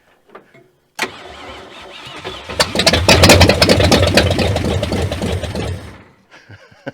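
An old truck engine cranks and catches, then runs loud and rough at close range with sharp irregular firing pops before cutting off, followed by faint clicks.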